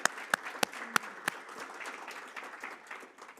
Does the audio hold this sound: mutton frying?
no